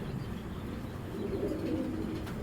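Racing pigeons, a breeding pair, coo softly in their loft, low murmuring calls over a steady background hum, with no voices.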